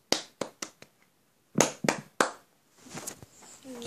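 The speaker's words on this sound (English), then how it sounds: "I gotta give that a clap." A single person clapping by hand, a few sharp separate claps, then a short second run of three louder claps, close and dry in a quiet room, followed by faint movement noise.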